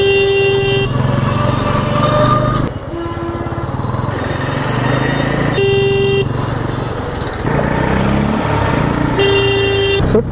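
Busy bus stand traffic with buses repeatedly sounding loud, long horn blasts over a constant rumble of idling engines and passing vehicles, close and continuous with no clear speech.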